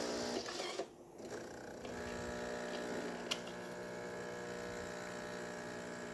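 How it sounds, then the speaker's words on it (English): A Jura espresso machine pulls an espresso shot, giving a steady mechanical pump hum and buzz throughout, with a brief dip near the start and a small click partway through, close and continuous with no talking. "Now we're gonna do that espresso shot."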